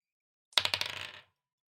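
Dice are rolled onto a table during a tabletop role-playing game, one quick clattering burst of small bounces that settles within under a second, fairly faint and alone.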